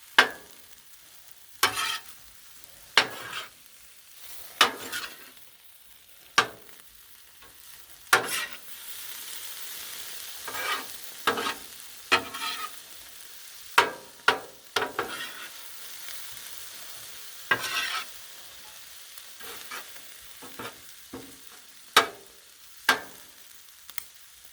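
Seafood and egg noodles are stir-fried on a griddle top, with a soft, low sizzle punctuated by many sharp, irregular spatula clacks and scrapes against the metal.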